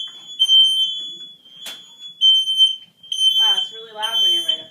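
A household smoke detector sounds a loud, piercing electronic alarm in repeated beeps close by, while a child and an adult talk over it.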